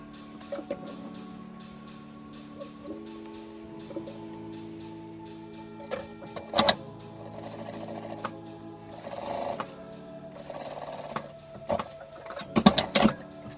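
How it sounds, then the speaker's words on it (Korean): A domestic sewing machine tacks piping onto a pajama pocket facing in short bursts of rapid stitching, with pauses, clicks and handling knocks between runs; no one speaks. "파이핑을 주머니 입구감 상단 라인에 맞춰서 이렇게 올려놓으시고, 자, 이 부분 일단 임시 고정 박음질 먼저 해줍니다"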